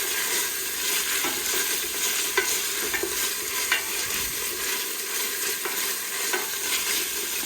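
Khao poon curry sizzles and fries on a very strong stove, making a steady close hiss with frequent stirring scrapes and clicks and no talking.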